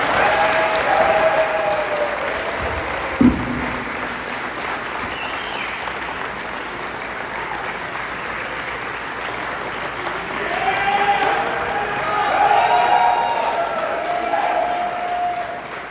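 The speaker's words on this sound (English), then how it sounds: "One more round of applause" An audience claps and cheers in sustained, dense applause at a nuclear company's record-setting launch event, swelling again toward the end, with a faint voice beneath the crowd.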